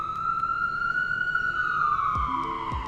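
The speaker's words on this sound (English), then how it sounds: "That's just an ambulance." An ambulance siren wails loudly and steadily, then its pitch drops as it passes close by, with faint background rumble.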